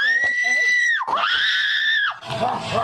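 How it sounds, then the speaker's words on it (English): A woman screams loudly when startled, played back through a phone speaker: a sustained high shriek, a short break, then a second long scream, ending in noisy commotion. "as soon as she goes around the corner, she screams"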